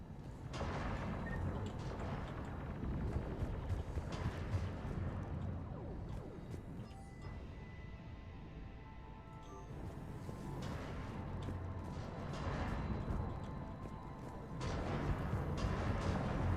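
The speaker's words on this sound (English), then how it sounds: "Those cannons have to be stopped." Heavy artillery cannon fire in the video game Mass Effect 3 Legendary Edition, a dense continuous barrage of booms and crashing impacts that swells loud and steady throughout, with no clear speech.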